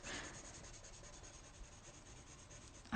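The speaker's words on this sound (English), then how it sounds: "This has been really nice to actually colour in, Sophie." Soft, steady scratchy rubbing of pencil strokes on paper, close and quiet, continuing without pause, ending in a brief louder bump.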